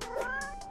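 A cat gives a single short meow, close and clear, lasting under a second.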